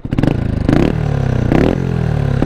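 Beta RR 125 LC supermoto with dB killer fitted, its small engine revved in three sharp bursts, loud and close with a rattling, buzzy exhaust note between each blip.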